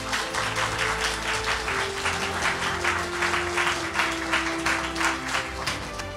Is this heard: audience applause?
yes